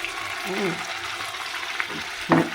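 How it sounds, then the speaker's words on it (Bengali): Fish frying with tomato, onion, ginger and garlic paste gives a steady crackling sizzle, with a sharper burst of spattering near the end, heard close and without talk. "একটু ভাজা ভাজা হোক এটাই"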